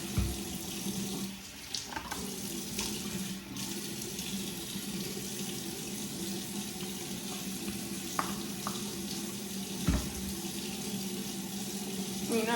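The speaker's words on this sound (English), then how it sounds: "So I'm gonna just wash my face real quick." A bathroom tap runs steadily into a sink while someone washes their face, with occasional splashes and water hitting the basin throughout.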